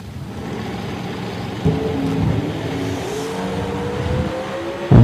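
A dragster out of Olympia launches down the drag strip in Woodburn, Oregon, its engine wailing as it climbs in pitch over a loud rumbling background, with a sharp burst at the start and another near the end.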